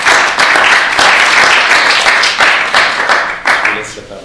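Audience applause at a conference in Geneva, a dense steady patter of many hands clapping throughout, fairly loud and close, with a few sharper claps standing out.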